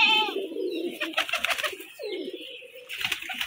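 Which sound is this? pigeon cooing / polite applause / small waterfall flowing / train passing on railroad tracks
pigeon cooing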